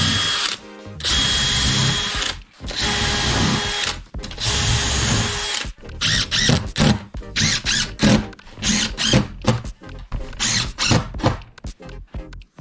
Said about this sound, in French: c'est pour percer et fraiser à la bonne profondeur dès le début